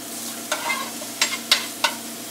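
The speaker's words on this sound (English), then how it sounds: "First, we're going to take our bacon and saute it." Bacon sizzles and sautés in a pan with a soft steady hiss, while a few sharp scrapes and clacks of a utensil stir it, close by and without speech.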